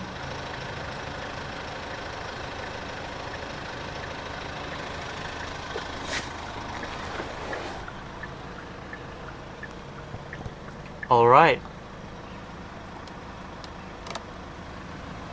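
A 2016 Kia Sorento 2.2 CRDi AWD diesel idles steadily after start-up, a low, even engine drone throughout, with a brief louder whine or squeal near the end and a single spoken word.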